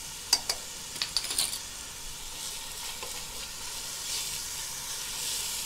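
Onion and garlic with salt sauté in a pan, a few quick clinks and stirring knocks early on, then a soft, steady sizzling hiss carrying on quietly alone.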